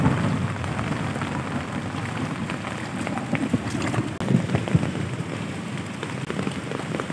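Heavy rain pours steadily on an open farm area, a dense continuous hiss of drops drumming on surfaces, with a few sharper splashes and thumps and a faint low rumble underneath.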